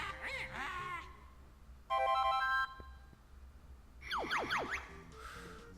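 A short rising chime jingle plays for the gold feather item pickup in the Banjo-Kazooie video game, among other bright, warbling musical game sound effects that sweep up and down in quick succession.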